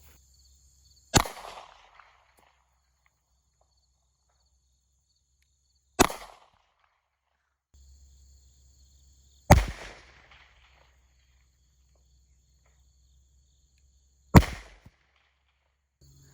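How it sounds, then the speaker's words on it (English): Four sharp, loud gunshots from an M&P 40 Shield pistol loaded with 180 grain Hydra-Shok rounds, fired at homemade body armor, spaced several seconds apart with short echoing tails and near silence in between. "And we're shooting, what is this? 180 grain Hydroshock."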